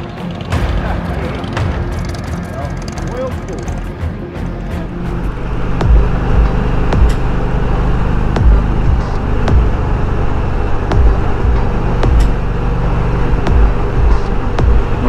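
An Indian Roadmaster motorcycle ridden on the highway at a rally test ride gives a steady, loud road and engine roar with wind rush that builds slightly midway and holds, with no talking over it.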